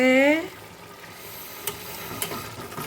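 Fried potatoes dropped into chicken cooking in a pan, a brief voice at the start, then a steady sizzle with occasional sharp clatters and scrapes as the pieces go in.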